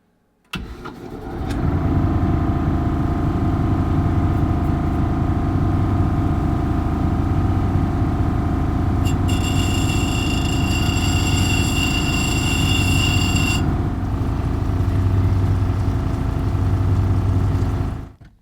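Cabochon machine's running wheel cutting a brick being shaped for polishing, a loud, steady motor drone with a harsh grinding layer that starts abruptly and continues to the end, with a brief high squeal midway.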